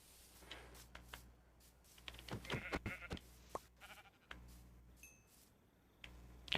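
Sheep bleating in a video game, a couple of short wavering bleats near the middle over quiet background ticks and soft clicks, faint and without speech.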